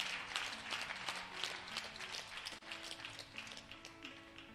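A church congregation applauds during a preacher's service, with soft, steady clapping and scattered taps held at a faint, distant level over a low background hum.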